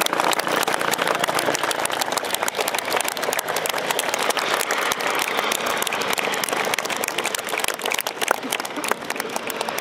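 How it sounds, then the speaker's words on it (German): An open-air crowd at a Bundeswehr open day at Wunstorf air base claps continuously and loudly for about ten seconds, the dense clatter of many hands holding steady throughout. "wir dürfen einmal klatschen für Frankie und Frieda"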